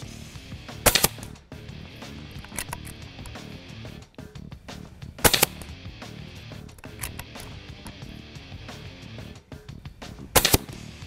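A RAW HM 1000X .357 air rifle fired at targets 50 yards away: three loud, sharp, isolated shots spaced several seconds apart, with faint ambient noise between them.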